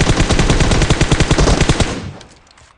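Rapid automatic gunfire in the mobile shooter PUBG Mobile, a loud, close, continuous burst of evenly spaced shots lasting about two seconds before tailing off into quieter rattle.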